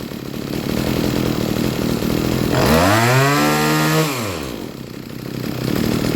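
A two-stroke chainsaw engine idles steadily and is then revved up and eased back down during carburetor idle adjustment, its pitch climbing and falling in a smooth arc before settling back to a rough idle.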